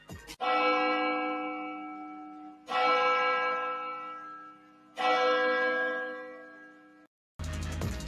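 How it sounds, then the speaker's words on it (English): Church bell struck three times at even intervals, each loud clang ringing out with a long, slowly fading tail before a short burst of a different sound at the end. "can we drop a church bell for this person"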